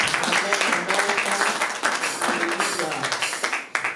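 A church congregation at a French-language Sunday service applauding together, a sustained wash of clapping over about four seconds with voices mixed in.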